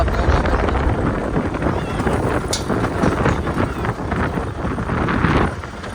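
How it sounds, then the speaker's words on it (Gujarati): A strong afternoon wind sweeps across open farmland near a millet field, buffeting the microphone with loud, continuous roaring gusts for six seconds and easing slightly near the end. "બપોર પછી ને પવન બહુ ઉપડ્યો છે તમે જોવો સંભળાતું હશે"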